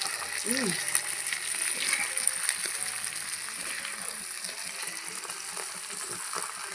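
Fish coated in spices frying in hot oil in a pan, with a steady close sizzle and a faint scraping stir. A brief voice sounds early on.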